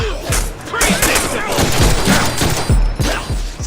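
Rapid bursts of video game gunfire from Deadpool on PC crackle throughout, several sharp shots in quick succession with a voice talking in Polish over the shooting.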